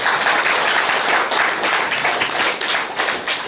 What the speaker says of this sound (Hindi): चलो पहले ताली बजा दीजिए